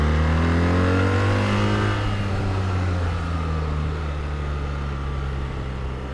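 A BMW R1300 GS motorcycle engine pulls away, its steady mid-pitched drone rising in tone before settling into a rougher, wind-blown rush; close and continuous, no talk, likely in wet riding conditions.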